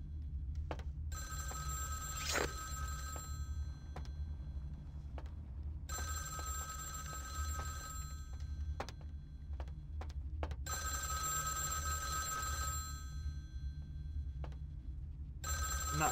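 A telephone rings inside the vampire RPG Vampire the Masquerade Bloodlines, its repeating bell bursts steady and moderately loud over a constant low game hum, with pauses between rings.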